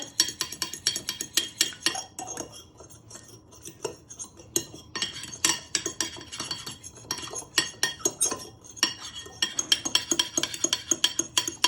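A fork whisks eggs in a bowl for ginger biscuits, producing rapid, continuous metallic clinking and tapping against the bowl with brief pauses between bursts.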